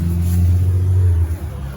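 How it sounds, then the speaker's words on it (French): A car passes close by outside near abandoned buildings, a loud low engine rumble that holds steady and then drops away as it goes past, heard alone without talk. "Oui, c'est une voiture, il y a une voiture."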